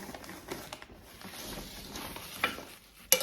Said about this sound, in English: we'll just go around and putting the soil in there